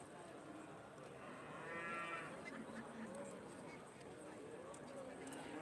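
Aberdeen-Angus cattle at a judging show, with a faint low moo rising briefly out of steady crowd and arena murmur, people talking in the background.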